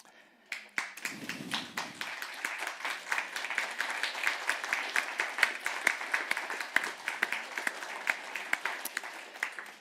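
An audience bursts into applause after a brief quiet start, with many hands clapping steadily and fairly close throughout.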